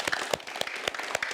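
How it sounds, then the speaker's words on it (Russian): A short burst of scattered clapping from a small audience at a youth debate show, with distinct individual claps spaced unevenly for just over a second. "Хорошо, спасибо, аплодисменты."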